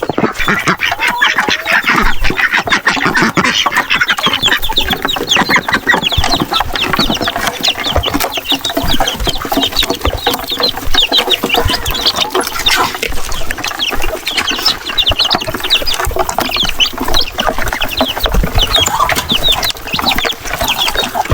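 Native chickens and chicks cluck and call steadily on a small farm, a dense, continuous mix of near and farther birds filling the whole stretch with no voices.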